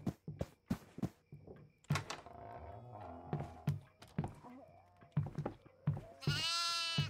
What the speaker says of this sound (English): Got a goat in the office.